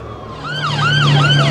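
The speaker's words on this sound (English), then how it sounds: "Look, an ambulance now." An ambulance siren wails loud and close in Blackpool during an airshow, with a rising and falling tone that repeats several times over road traffic noise.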